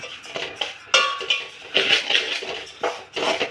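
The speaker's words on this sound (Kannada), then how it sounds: "ಇವಾಗ ರವೆ ಹುರಿತಾ ಇದ್ದೀನಿ" Semolina (rava) is roasted in a pan for upma, with a utensil scraping and clinking against the metal in quick irregular strokes, close and fairly crisp.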